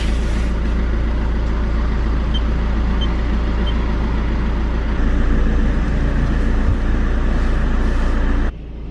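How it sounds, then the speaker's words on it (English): An automatic car wash runs loud and close, giving a steady low machine rumble with broadband spray and brushing noise that continues throughout and then drops in level near the end. "let's get the car wash on."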